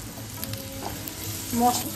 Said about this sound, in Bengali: পেঁয়াজটা ভাজা হয়ে গেছে, আদা রসুনের পেস্ট দিয়ে দিলাম, হলুদ আর কাশ্মীরি লঙ্কার গুঁড়ো দিয়ে দিলাম